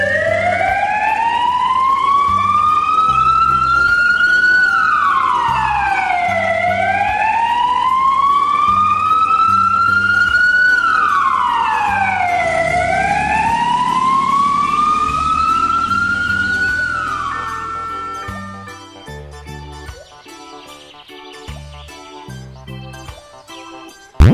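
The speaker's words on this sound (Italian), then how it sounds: "camion dei pompieri rosso" Fire truck siren wailing loud and close, rising and falling in long repeated sweeps for about seventeen seconds before cutting off, followed by a quieter stretch of background music.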